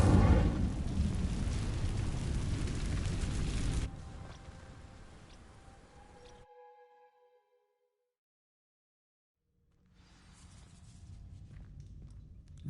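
Incendio fire spell cast in Hogwarts Legacy, a dense roaring whoosh of flame for about four seconds that fades into a tonal shimmer and silence, then a quieter rumble returns near the end.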